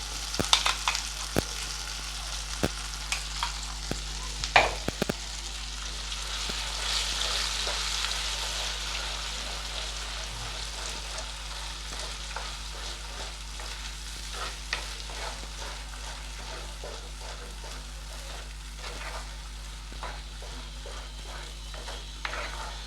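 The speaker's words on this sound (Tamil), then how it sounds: "இந்த எண்ணெயில் அதை லைட்டாக வதக்கி விட்டுட்டு" Ingredients sautéing lightly in oil in a pan for a Nellai-style tamarind curry, a steady soft sizzle with occasional stirring scrapes and clicks, close and continuous throughout.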